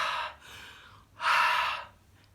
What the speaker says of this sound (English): What I do is I breathe on it,